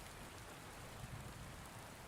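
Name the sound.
storm rain lashing against windows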